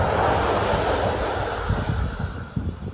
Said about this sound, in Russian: Это дикий пляж.